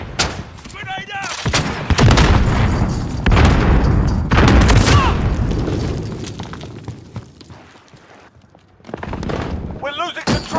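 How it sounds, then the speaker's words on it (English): Grenade blast and bursts of rifle fire in a Call of Duty Modern Warfare 2019 multiplayer match, loud and dense with several heavy booms, with players' voices talking throughout. "Grenade out."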